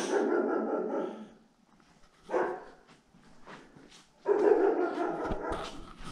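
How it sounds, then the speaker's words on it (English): A dog barks and yips in two loud close bursts with a quiet gap between, heard in a workshop during a DAF LF tilt-and-slide recovery truck body build. "The dog's driving me fucking cracked."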